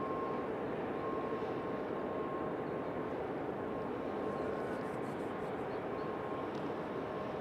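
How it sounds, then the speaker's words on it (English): A Southwest jet airliner rolls for takeoff at an airport bound for Austin, Texas, a continuous broad engine roar heard from a distance that holds steady throughout. "Southwest on the roll behind us, headed to Austin, Texas."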